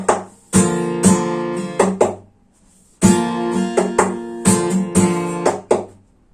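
A fingerstyle acoustic guitar plays a percussive pattern: a bass note with the strings ringing, then lighter string strokes and two sharp taps on the body. It repeats twice, close and clear, with a short pause between.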